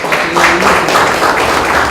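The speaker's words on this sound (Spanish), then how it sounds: "Le damos un fraternal, caluroso aplauso" An audience at an environmental research meeting applauds after a presentation, a dense patter of clapping that rises in waves and holds steady, fairly loud, with no talk over it.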